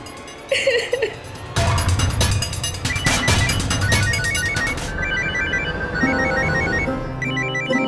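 A phone rings with a bright repeating electronic ringtone in a Delhi home setting, sounding through several seconds of loud, busy dramatic music and stings, fairly close and persistent.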